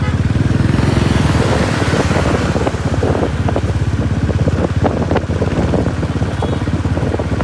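A motorcycle rides at an easy pace, its engine a steady low throb under heavy wind rushing against the microphone, loud and continuous from start to end.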